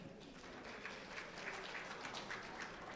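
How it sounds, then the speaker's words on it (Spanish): An audience at an education policy plenary gives a round of clapping, a soft, even patter of many hands lasting a few seconds, distant and without voices. "la profesora Aurelia, fuerte palmas para ella."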